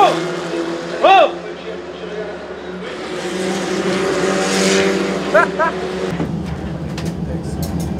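Race cars circling at the GP Explorer racing event make a steady, droning engine roar in the background throughout, with rising and falling pitch, while people shout and talk nearby over the noise.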